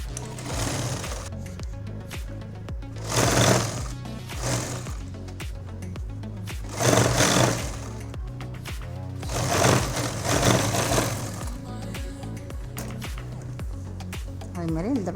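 A sewing machine stitches a summer nightgown in repeated close bursts, each run whirring for a few seconds before pausing, while someone talks between and over the stitching.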